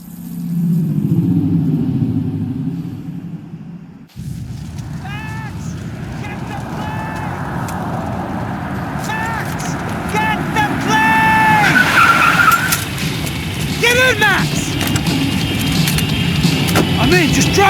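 A car speeds and skids in the video game Max Payne 3, with a steady roaring engine and repeated high tire squeals, loud and close, layered over game noise after a brief muffled opening.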